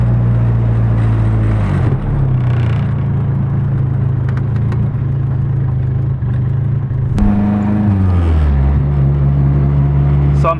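A car with a Nissan KA engine pulls hard through the gears, the engine note rising steadily and dropping with each upshift, loud and close throughout with no voices.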